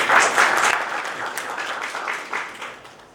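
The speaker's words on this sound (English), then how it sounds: "A round of applause for Mr." Audience applause greeting a speaker taking the stage at a mobile app launch event, a full, close crowd of clapping hands that gradually softens over a few seconds.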